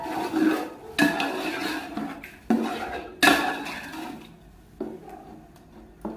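Yogurt being stirred in a bowl with a spoon, a series of clinking scrapes against the dish, several distinct knocks spaced out over a steady soft mixing noise.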